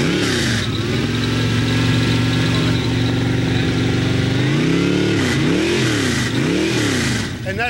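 A hot rod engine fitted with mufflers runs on a test stand, loud and close: a steady rumbling idle for several seconds, then repeated blips of the throttle rising and falling.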